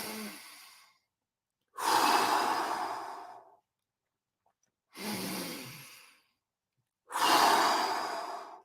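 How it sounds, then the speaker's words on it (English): Slow deep breaths, each drawn in through the nose and released out through the mouth, four long airy breaths separated by short silences, close and clear with no talking. "In through your nose and out through your mouth."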